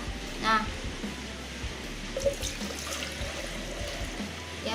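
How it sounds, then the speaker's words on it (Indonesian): Water pours into the tank of a facial steamer with a soft, close trickle and gurgle under low background noise, plus a few small knocks. "saya sudah menyiapkan air, saya akan tuangkan airnya di sini"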